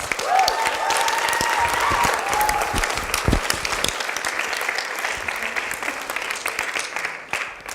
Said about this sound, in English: Let's give our Native American Student Council another big round of applause